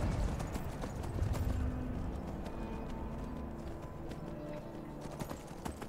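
Hooves of a horse in Skyrim clop along continuously at a rhythmic gait, fairly close, over a low game ambience, with the hoofbeats carrying throughout.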